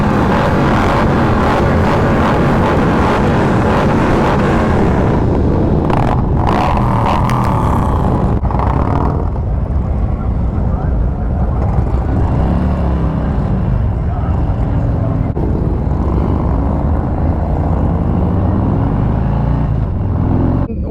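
Harley-Davidson motorcycles setting off on a charity toy run in Wise County, Texas, a loud continuous engine roar close to the mic, with wind noise and revving swells through the ride.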